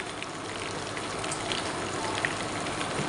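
A large tà bá fish fries in a pan of hot oil, giving a steady crackling sizzle with small pops, continuous and close, with no voices.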